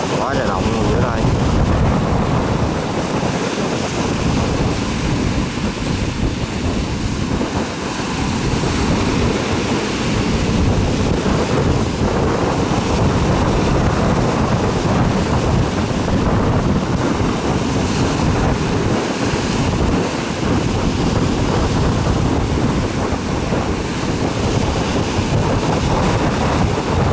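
Strong wind buffets the microphone over big waves on a rough sea, a loud continuous roar and wash of surf lasting the whole stretch, with a voice talking faintly at times.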